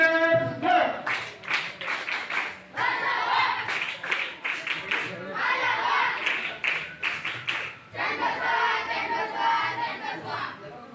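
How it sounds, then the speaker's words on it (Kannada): An audience at a Kannada school award ceremony for a top tenth-standard student claps in bursts, with crowd chatter and voices mixed in across the clapping. "ನನಗೆ ಒಂದು ಸಾರಿ ಎಲ್ಲರ ಜೋರಾದ ಚಪ್ಪಾಳೆ ಮೂಲಕ"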